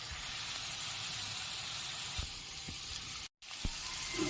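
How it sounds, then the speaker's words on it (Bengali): Onions frying in hot oil for a village-style fish curry give off a steady, close sizzle that fills the clip, with a brief dropout near the end before the hiss resumes. "পেঁয়াজটা আমি ভালোভাবে লাল লাল করে ভেজে নেব।"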